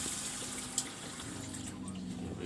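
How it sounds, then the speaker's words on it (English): Water runs from the kitchen faucet of a Winnebago Minnie Winnie RV as a steady hiss that stays even from start to finish, with one brief clink partway through and no voices. "Faucet works."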